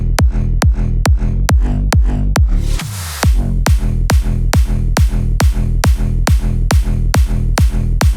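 Electronic dance music drop with heavy pounding beats repeating at a steady pace, briefly cutting out into a short swelling gap before the pattern slams back in, loud and alone.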